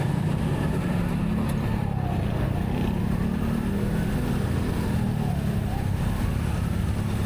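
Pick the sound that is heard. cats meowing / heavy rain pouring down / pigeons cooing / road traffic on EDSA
road traffic on EDSA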